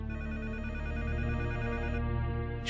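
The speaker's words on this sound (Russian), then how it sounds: "Она позвонила Ронди по телефону." An old-style telephone bell rings continuously and loudly for about two seconds, then breaks off abruptly, with no talk over it.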